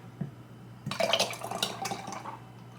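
Heavy cream pours into a bottle for about two seconds, a gurgling, splashing stream after a soft knock, close and moderately loud.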